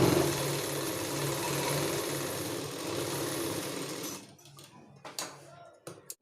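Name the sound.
sewing machine stitching saree blouse seam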